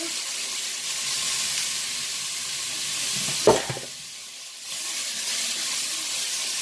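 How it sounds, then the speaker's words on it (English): Vegetables sautéing in a pan for a shredded chuck roast, a steady sizzling hiss with one brief stirring clatter midway, heard alone and fairly close. "just make sure you stir. You get a nice color on these vegetables as well."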